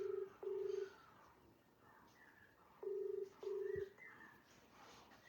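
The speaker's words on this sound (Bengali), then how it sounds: "ফোন করা হচ্ছে।" An outgoing phone call rings back with faint paired tone bursts: two beeps, a long pause, then two more, over a quiet room.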